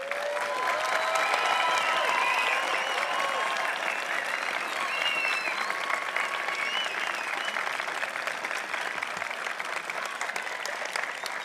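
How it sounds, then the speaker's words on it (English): Sustained applause at a university convocation ceremony honoring new graduates, a dense, even wash of clapping from a large audience that continues for over ten seconds, with some cheering mixed in. "how about a round of applause for our new graduates?"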